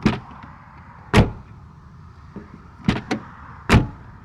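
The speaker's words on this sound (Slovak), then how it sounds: "aj keď otvoríš tie dvere, tak ten zvuk, však vypočujte si ho sami." Door of a 1976 Mercedes-Benz W123 240 D diesel car being worked: several solid, heavy thunks and latch clunks, close up and loud, spaced irregularly with quiet gaps between, no talking.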